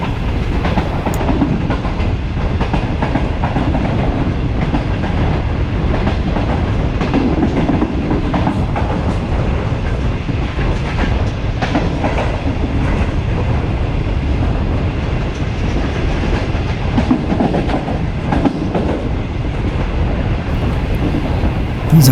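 The Shalimar Express in Pakistan runs at around 70 km/h through a curve, a loud, continuous rumble of wheels on rails with steady clickety-clack, heard close from on board.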